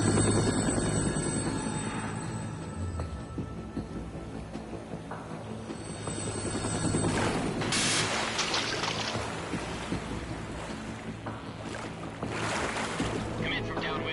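Helicopter in Metal Gear Solid 2 approaching a large offshore shell facility, a continuous loud rotor drone and engine roar with swelling whooshes, heard alone without talk.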